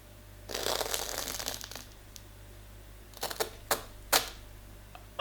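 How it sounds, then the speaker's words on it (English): Knife cutting through crispy pizza topped with cheese balls, giving a stretch of close crunchy scraping followed by several short sharp crackling cuts, fairly quiet and alone. "Just listen to me cutting the pizza."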